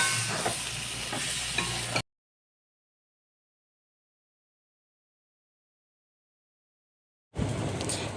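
Potatoes being stirred and fried in a pan of spice paste, a soft sizzle with scraping spoon strokes, cut off by a long stretch of silence before the sizzling returns.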